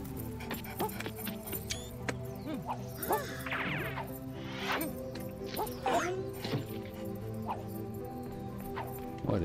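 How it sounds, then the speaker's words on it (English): A small cartoon dog in the video game BLUD barks and yips repeatedly in short, bright bursts, with a few whimpering squeaks among quieter game sounds and light background music. "Oh, there's a doggy."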